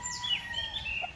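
Birds call on a farm with chickens, thin high chirps and whistles over a low steady background rumble, moderately close.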